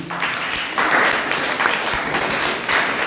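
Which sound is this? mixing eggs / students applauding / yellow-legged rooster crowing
students applauding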